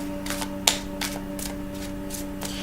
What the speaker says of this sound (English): So I pre-shuffled the cards, Gemini, a little bit before I turn the camera on. Just going to shuffle some more.